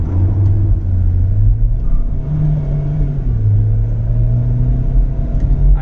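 MG Hector DCT SUV accelerating hard on a test drive, its engine note rising as it pulls through gears, loud and close with a steady low rumble throughout.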